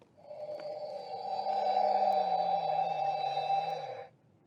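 An interactive Marvel Infinity Gauntlet toy gives out a steady electronic tone when a stone is popped in, holding for about four seconds with a low gliding undertone before cutting off cleanly.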